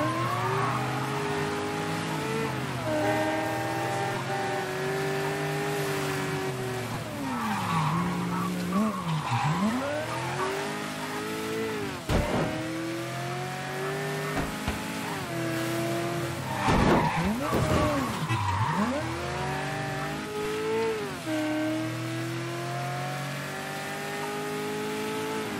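A car in Mafia III drives hard with a revving engine and repeated long tire skids and squeals, loud and close, with engine pitch swooping up and down through sharp turns and a few impacts.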